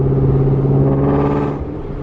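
A boosted widebody Shelby GT350 Mustang with its Voodoo V8 and catless headers pulls hard under acceleration, a loud steady engine drone with a strong low harmonic that shifts briefly near the end.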